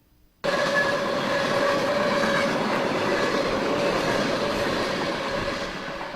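Train rumbling past close by after an abrupt start, a loud sustained roar of rolling cars with faint tonal hum, holding steady for several seconds without voices.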